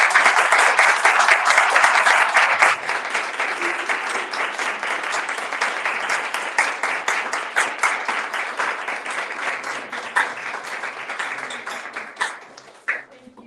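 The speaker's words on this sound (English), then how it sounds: "I would say a round of applause for our speakers." A room full of people claps loudly, the applause thinning gradually into scattered individual claps before fading out.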